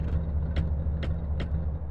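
A car engine drives in GTA San Andreas with a steady, low rumble throughout, broken by three short, sharp higher bursts at even intervals.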